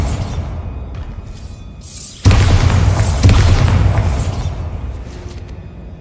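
A Bombarda spell detonates in a Harry Potter wizarding-school video game, a sudden loud boom breaking over a low rumbling backdrop and trailing off into a long crackling, debris-filled roar.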